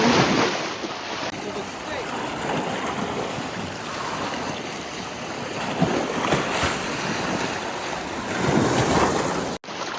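Waves wash steadily along the warm Dead Sea shore in calm, windless weather, a continuous loud rushing surf with slight swells throughout and no voices.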